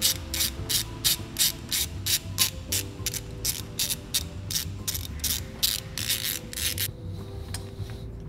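Rapid ratchet clicking as a wrench loosens the last nut during turbo removal on a BMW 335i with the N54 engine, a steady, close run of sharp pawl ticks that continues almost without pause.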